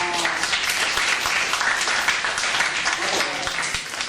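Students in a Hong Kong international school classroom applaud during a history lecture, a dense steady wash of clapping running the full few seconds at moderate loudness, with a voice or two mixed in.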